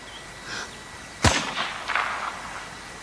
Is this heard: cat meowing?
no